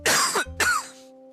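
A person coughs twice in quick succession, two loud, close bursts with a short gap between them, followed by a brief fading tail; no talking.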